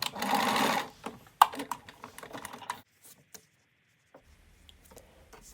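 A sewing machine stitches a seam on fabric for a small drawstring pouch, a short loud burst of rapid mechanical stitching followed by scattered clicks and handling noises, then near silence with a faint low hum.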